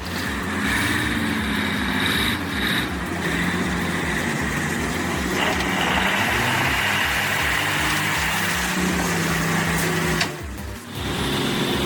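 A Scania 143 truck with a V8 engine runs steadily and loudly, a continuous deep rumbling drone with shifting tone over about ten seconds before briefly dipping near the end.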